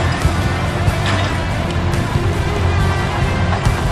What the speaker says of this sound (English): It's a Smith & Robley Super 10 and probably about mid-1950s, and it's powered by a Gardner 3-cylinder diesel.